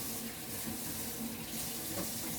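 Kitchen tap running steadily into a sink while eggshells are rinsed under it, a constant soft splashing hiss heard close and without speech.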